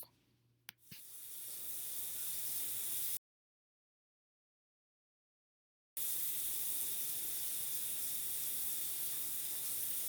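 Tap water running at a bathroom sink during handwashing, a steady hissing gush that starts after a couple of clicks, cuts out completely for about three seconds, then resumes just as strongly.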